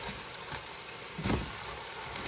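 Rice frying on high heat in a pan gives a steady loud sizzle, with a brief scraping burst as it is stirred.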